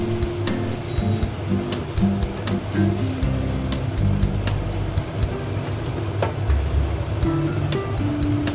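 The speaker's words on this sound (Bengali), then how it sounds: "মটরগুলো খুব সুন্দরভাবে সেদ্ধ হচ্ছে" Boiled peas cooking in a pan for ghugni, a steady close bubbling and sizzling hiss with occasional sharp clicks and taps from a utensil throughout, moderately loud and unbroken.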